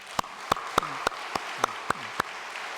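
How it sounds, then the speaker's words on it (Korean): Applause in a church congregation: a thin, sparse run of about nine evenly spaced claps, distinct and fairly close, over a quiet room background. "참가장을 위해서 박수 한번 보내겠습니다."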